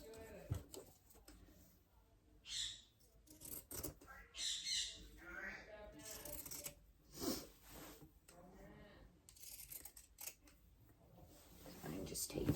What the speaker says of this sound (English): just cut just a little along here with my pinking shears